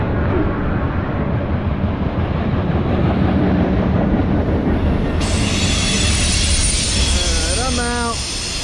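A CSX ethanol freight train hauled by ET44AH and ES44DC locomotives rumbles past steadily nearby in Edison, New Jersey, with a broad roar and, near the end, a rising squeal of wheels or a horn-like tone.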